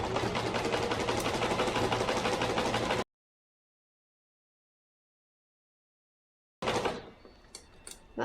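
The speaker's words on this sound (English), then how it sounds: "just kind of pull the fabric out and lay it flat as it goes under the machine" A sewing machine stitching fabric around a curved gusset, a fast steady mechanical whirr for about three seconds, then silence, then faint handling clicks.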